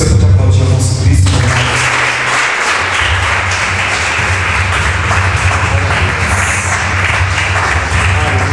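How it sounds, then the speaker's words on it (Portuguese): A church congregation breaks into sustained applause, a dense wash of clapping that swells after a brief spoken moment and carries on evenly and fairly loud to the end. "Você pode aplaudir ao nosso Cristo."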